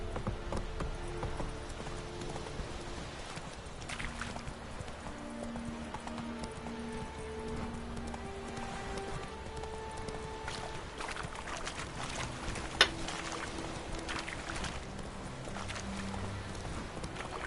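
Horse hooves clip-clop at a steady gallop in The Witcher 3 video game, a continuous rhythmic patter over game music and ambience, with a brief sharp knock near the end.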